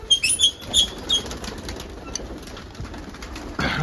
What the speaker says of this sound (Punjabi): ਆਪਣੀ ਨੀਲੀਆਂ ਝੱਲਰਾਂ ਵਾਲੀ ਕਬੂਤਰੀ